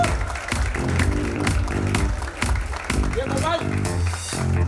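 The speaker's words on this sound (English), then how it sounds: "Big round of applause" Event crowd at a film trailer launch for a cricket biopic applauds beneath loud, pulsing stage music with a steady beat, the clapping blended into the music throughout.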